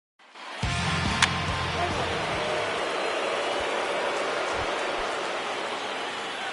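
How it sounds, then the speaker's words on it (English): Steady rain falls over an open-air World Series ballpark, a broad continuous hiss that starts abruptly and holds at an even level. A single faint click sounds near the start. "There is rain in the area,"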